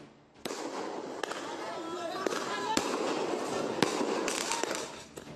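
Sharp firecracker bangs burst out one after another during a street clash between youth groups, amid a dense crackle of distant explosions, with voices murmuring in the background throughout.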